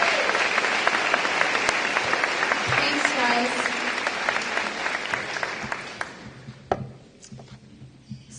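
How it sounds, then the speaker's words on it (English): An audience at a school athletic awards event gives parents a round of applause, steady dense clapping from a large room that fades out after about six seconds, followed by a few scattered claps and a brief spoken thanks. "So one last round of applause for these parents."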